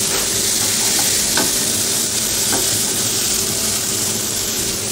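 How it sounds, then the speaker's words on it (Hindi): Onions fry loudly with spices in a hot pan for chicken gravy, a dense, continuous sizzle close up, with a few brief stirring scrapes over the steady hiss. "ऑनियन लाल होने तक भूनना था आपको मसालों के साथ में।"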